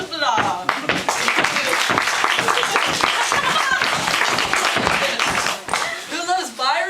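Audience applause and clapping at a live magazine debate, sustained across the clip with cheering voices and talk mixed in throughout.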